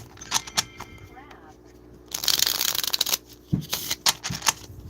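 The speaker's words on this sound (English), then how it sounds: "Can you guys hear me shuffling the deck?" A tarot card deck is shuffled close up, with a burst of riffling that runs for about a second in the middle and a few sharper card snaps around it, while a person speaks briefly.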